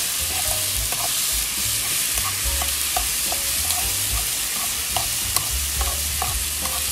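Bean sprouts stir-fry in a small pan on a camp stove, a dense continuous sizzle with frequent rhythmic scraping and tossing of a spatula, loud and close.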